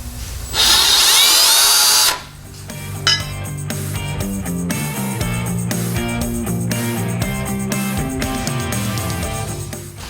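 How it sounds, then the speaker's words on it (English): A step drill bores through the metal frame of a 1953 Chevy pickup at high speed for a second or two, then stops, followed by metallic clinking and clattering of tools being handled nearby. "I use my step drill on the front and the back side"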